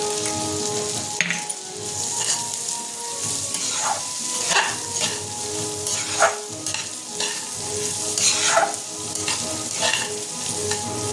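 Spices and rice fry in a pan for a Bengali sweet rice dish, with a constant close sizzle and repeated scraping strokes of a spoon stirring through the grains, with no talking.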